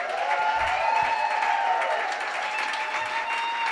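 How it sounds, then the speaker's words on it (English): Audience at the Jazz Maui 2024 Maui Music Series applauding a jazz band, a steady spread of clapping across the space with sustained tonal music or feedback ringing beneath it. "Please give a round of applause to this great band."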